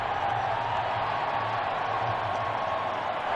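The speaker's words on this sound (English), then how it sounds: "The crowd is cheering because they just showed the Raiders scoring a touchdown against the Colts" Stadium crowd at a football game roaring in cheers after the Raiders score a touchdown against the Colts: a steady, dense, distant wash of voices that holds without pause throughout.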